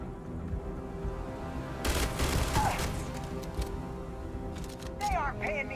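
Gunfire in the sci-fi video game Starfield: a dense burst of shots mid-clip over a steady background hum, with later electronic chirps and blips.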